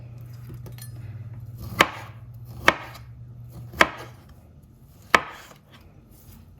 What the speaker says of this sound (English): these are the mighty kiwi. I think I'm just gonna do slices like that